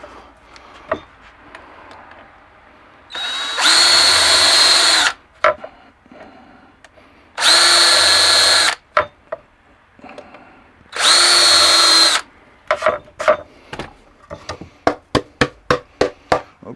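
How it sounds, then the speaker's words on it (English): Power drill driving screws into wood for a sharpening station: three loud bursts of several seconds each, separated by pauses, then a run of sharp knocks and taps close up. "Okay, back screws are drilled."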